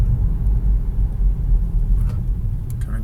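A car coasts toward a stoplight, its low steady road rumble and engine drone close and even throughout, with faint light ticks near the end.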